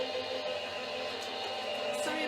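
A Gemini die cutting machine runs with a steady, fairly loud whirring drone that holds even and unbroken throughout, with no talking.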